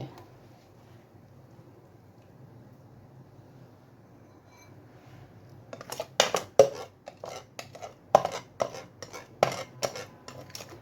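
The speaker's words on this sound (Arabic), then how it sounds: "هجيب بقى صينيه دلوقتي واحط فيها الكيكه بتاعتي" Homemade chocolate cake goes into a metal baking tray: after a quiet stretch of low room hum, a close burst of sharp metallic clanks, knocks and scrapes follows in uneven clusters.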